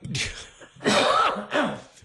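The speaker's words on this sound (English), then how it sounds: "I'm going to cough while you're doing that." Three rough, breathy coughs in quick succession, close and fairly loud, with brief pauses between them.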